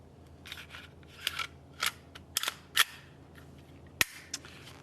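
Plastic parts of a Glock 44 .22 LR pistol click and snap together in a handful of crisp, close clicks spaced unevenly, ending in one sharp snap, over a quiet background.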